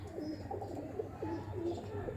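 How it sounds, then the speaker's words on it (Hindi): A Maradona pigeon cooing softly, a few low rolling coos over a faint background hum, close and quiet, with no talking. "ये कबूतर जी व्हाट्सएप के मैराडोना कबूतर"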